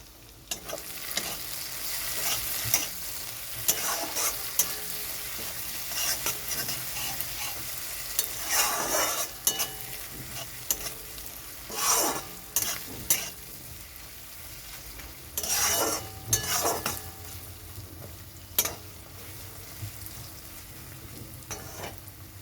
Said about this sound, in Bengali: এখানে কোনো জল দেব না। একটু ভালো করে কষিয়ে নিই।